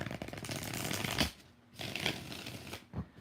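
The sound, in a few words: shuffling tarot cards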